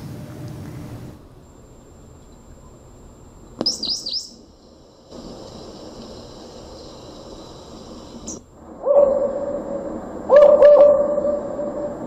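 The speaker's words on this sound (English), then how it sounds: "Of national parks with all the bird sounds and stuff" Bird calls from a national parks nature soundboard played on small hardware: sparse chirps and whistled trills over a low background hiss, with a brief high warble, a steady thin tone and a louder call near the end.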